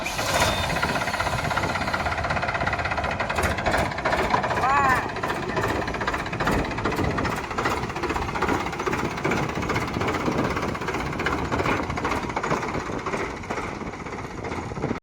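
A tractor engine runs loud and close with a harsh, clattering, knocking chug, steady throughout, while voices talk over it.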